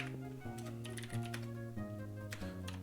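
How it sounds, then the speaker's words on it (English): Keys on a computer keyboard that chatters are tapped in a brisk, uneven run of close clicks over a low steady hum. "have a thing of my keyboard that's chattering a bit"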